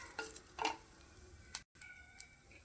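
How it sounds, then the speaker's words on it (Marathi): Grated coconut is stirred with roasted green chillies in a pan, giving quiet scraping and clinking stir strokes with a faint sizzle and brief sharp ticks. A short silent gap breaks it partway through. "याच्यामध्ये खोबरे टाकून घेऊया आणि खोबराही थोडासा तांबूस होईपर्यंत भाजून घेऊया"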